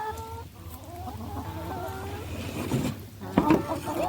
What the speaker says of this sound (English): There's my ladies and the big rooster.